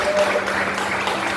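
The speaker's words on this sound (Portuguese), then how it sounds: "Gostaria de aplaudir as mulheres aqui." Congregation clapping for the women at a church Easter retreat, a brief dense wash of applause heard for just over a second, steady and moderately loud.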